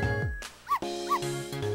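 Two short, bright dog barks or yips from the video game Ghost Trick, spaced about half a second apart and set over steady game music.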